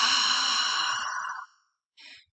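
A voice imitates the strained, effortful exhale of someone with emphysema: one long, hissing, breathy push of air that fades out, then a short second puff, with no speech.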